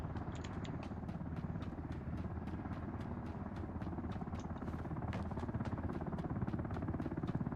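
Steady rotor chop of a video game helicopter, a fast even thumping that holds throughout at moderate distance with a faint clatter layered in.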